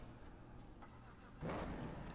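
A new casino car's engine in GTA 5 idles low, then bursts into a loud, sustained rev about midway through.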